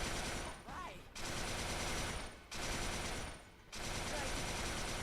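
Rapid automatic gunfire from the video game Resistance 3 comes in three long sustained bursts with short breaks between them, dense and steady but fairly quiet in the mix.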